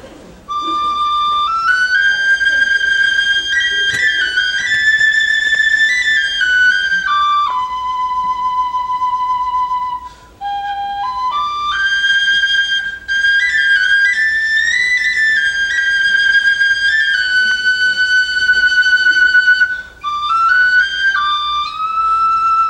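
A penny whistle plays a lively, bright melody with held and stepping high notes, close and loud, with only brief pauses between phrases.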